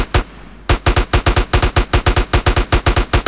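Rapid gunfire from a video game set in GTA San Andreas Multiplayer: one shot, a short pause, then a steady run of loud, evenly spaced automatic shots in the foreground, with no talk over them.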